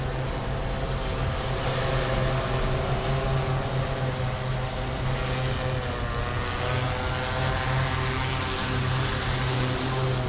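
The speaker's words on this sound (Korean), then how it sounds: "그러면 이제부터는 다시 이륙을 시켜서 착륙 지점으로 데려오면 됩니다." An agricultural spraying drone flying back to its landing spot, its rotors making a continuous, loud, even buzzing drone with steady tonal hum that holds for the whole stretch.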